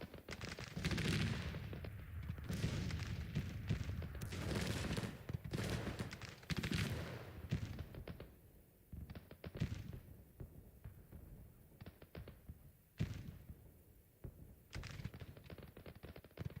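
Civil War battle in Grand Tactician: The Civil War, with rolling volleys of musket fire and booming artillery crackling in dense bursts, loud and continuous, fading briefly before fresh salvos break out.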